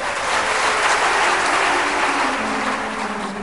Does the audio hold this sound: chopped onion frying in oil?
no